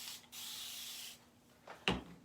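A cleaning spray hisses steadily onto an 18 by 18 board, then a short pause and a louder wet rub as a dampened board eraser wipes across the surface, close and clear with no talk.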